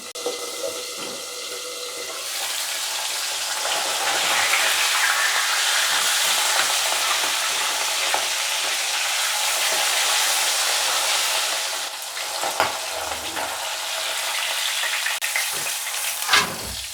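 Fish frying in oil in a partly covered pan, a loud steady sizzle that stays continuous throughout, with a few clinks and stirring knocks near the end.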